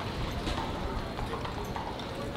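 Horse hooves clip-clopping along a car-free street on Mackinac Island, a quick, continuous run of clops heard at moderate distance under general outdoor background noise.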